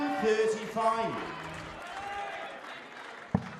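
Darts crowd at the WDF World Darts Championship, a lively arena audience cheering, whooping and clapping continuously, with a sharp loud bang near the end.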